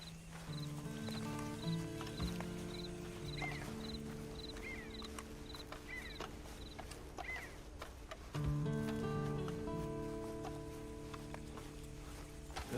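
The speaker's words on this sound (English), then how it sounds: "And you better get on this horse." Horse hooves clip-clopping in the Red Dead Online video game, a steady rhythmic plodding set against a continuous layer of game music and ambient tones, fairly close and moderately loud.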